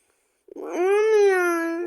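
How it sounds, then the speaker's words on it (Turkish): A single cat gives one drawn-out, clear meow close by, rising then holding steady before trailing off, in an otherwise quiet room. "Arkadaşlar kedi."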